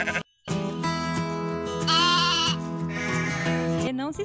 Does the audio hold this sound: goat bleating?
yes